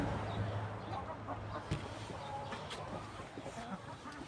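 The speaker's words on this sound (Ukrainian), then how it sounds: "Море курей." Several old chickens cluck and murmur close by in a noisy yard during cold, rainy weather, with scattered short calls over a steady background hum.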